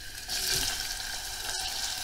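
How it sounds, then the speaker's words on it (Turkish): A chopped medium onion sizzles in hot vegetable oil, a steady crackling hiss with a brief clink partway through. "Orta boy bir adet kuru soğanı yemeklik doğradım ve yağıma ilave ettim"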